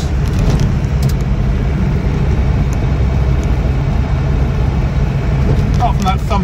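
A Land Rover Defender 90 300Tdi diesel pickup runs with a steady, loud, dense low rumble throughout, heard from inside the vehicle while driving.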